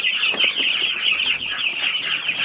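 Meat chickens on a homestead cluck and chatter as a flock, a busy, continuous jumble of overlapping calls, fairly loud and close, with no talk.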